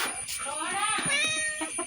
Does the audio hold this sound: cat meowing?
yes